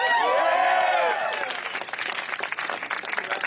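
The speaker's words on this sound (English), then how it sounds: "let's give them a round of applause" A town hall audience in Portsmouth, New Hampshire breaks into applause, with a voice ringing out over the opening clapping before the crowd settles into a steady, moderately loud patter of hands.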